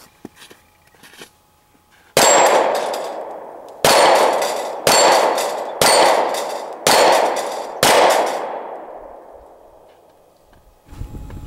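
Six loud .40 S&W shots from an unsuppressed Glock 23 pistol, each followed by a bright ringing clang off AR-500 steel plates. The impacts come in an uneven rhythm, and each ring decays slowly.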